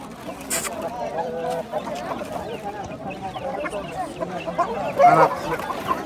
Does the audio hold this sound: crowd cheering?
no